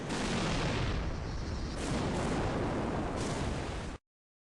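Missile launches and explosions from the PSP game Heatseeker roar as one dense, continuous barrage, loud and unbroken for about four seconds, with brief brighter bursts riding on top before it cuts off abruptly.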